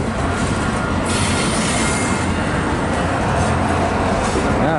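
A long freight train hauled by CSX locomotives rolls past close by, a loud continuous rumble of wheels and cars with squealing metal and rhythmic clatter.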